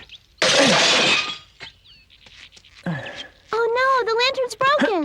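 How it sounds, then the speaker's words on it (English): A glass lantern breaks and shatters with a sharp crash and scattering tinkles, followed by a brief clink and then voices talking. "Oh no, the lantern's broken."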